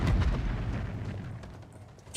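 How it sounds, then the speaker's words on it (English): A Starfield video-game explosion booms right at the start, a loud low-heavy blast whose rumble and debris noise decay over about two seconds, with no talking over it. "Explosion behind her."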